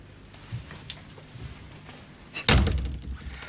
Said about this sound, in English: why don't you come in and shut the door?